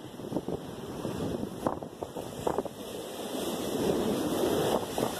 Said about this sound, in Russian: Смотрите, какие волны здесь захлестывают.